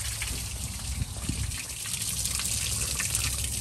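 Old, dark coolant from a 1982 Chevrolet C10 pours steadily onto pavement under the truck, a continuous close gushing, splashing wash of liquid that runs without a break and with no talk over it.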